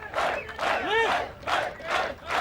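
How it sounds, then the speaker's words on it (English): A crowd at the 1992 World's Strongest Man cheers Magnus Ver Magnusson's 425 kg lift with rising waves of yells, whoops and hollers, heard from a middle distance without commentary. "The crowd certainly like that."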